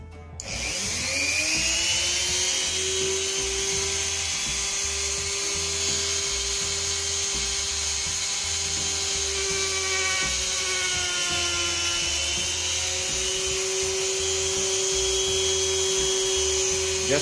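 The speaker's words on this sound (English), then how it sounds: "it's easier to cut plastic if you have a reliable rotary tool" A rotary tool spins up to a high-pitched whine and holds a steady close buzz while cutting through a plastic universal front lower lip for a Honda Odyssey.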